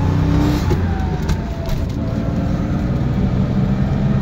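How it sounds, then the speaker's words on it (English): Car with a manual transmission accelerating on a road drive, steady loud engine drone from inside the cabin with a brief dip around a gear change, heard up close without speech. "Transmission shifts really nice."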